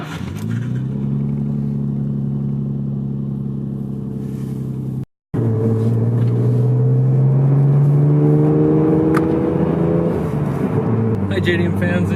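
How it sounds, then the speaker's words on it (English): Nissan Skyline GTR R33 V-Spec engine starting from cold, a steady loud idle with a brief cut, then a rising high idle that settles back, close to the car with no voices. "R33 GTR V-SPEC cold start"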